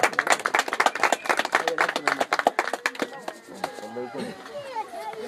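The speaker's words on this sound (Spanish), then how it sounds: "Vamos a dar fuerte las palmas." Rhythmic, fairly loud hand clapping from a group at a birthday celebration, with steady claps for about three seconds before voices take over and the clapping thins out.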